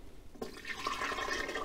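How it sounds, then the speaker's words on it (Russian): Liquid plaster pours into a casting mold with a steady, close pouring and splashing wash that starts suddenly and runs on without break. "Следующим этапом открываем форму и просто в нее заливаем."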